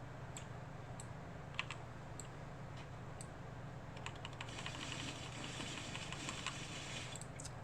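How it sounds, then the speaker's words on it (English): Two decks of game cards are shuffled together during a solo tabletop game of The Last Command: soft riffling clicks and a longer rustling flurry toward the end, quiet and close with steady room hiss and no talking. "you can just go ahead and shuffle them both up"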